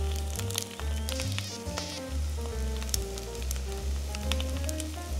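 An egg fries in a pan with a busy, crackling sizzle, dense bursts of spitting and popping over a steady frying hiss, close and fairly quiet, with no talking.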